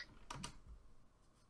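A computer keyboard is typed on with a couple of distinct key clicks close by, followed by a few softer taps in a quiet room.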